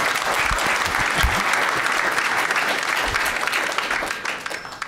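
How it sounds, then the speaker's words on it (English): Convention audience at a session on finding and starting new Oxford Houses breaks into applause, dense many-handed clapping close and loud for nearly five seconds before tapering off. "Yeah, let's clap on that."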